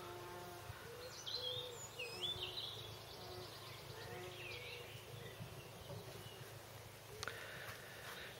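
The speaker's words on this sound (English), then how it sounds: "There's the bees working. They work late into the night." Bees buzz faintly in a garden at night under a full moon, a soft drone drifting in and out over a quiet background of insect hum, with a brief chirping sound near the end.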